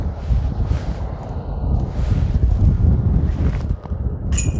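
Gusts of wind on a disc golf course buffet the microphone in a steady low rumble that swells and eases across the clip, loud and close, with no talking.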